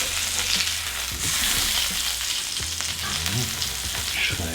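A burger patty sizzles steadily on a hot contact grill, a dense, continuous frying hiss with faint scrapes and clicks near the end, close and fairly loud with no talking.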